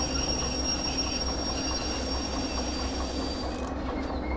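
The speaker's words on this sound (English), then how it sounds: "once I get past this switch, I'll want to stop the train, so use my train brake" A train in the Derail Valley driving game rumbles steadily along the rails with a low drone and sustained high metallic brake squeal as it slows, close and continuous, with no talking.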